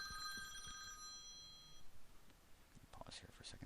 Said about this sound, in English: Pause here for a second for a phone call.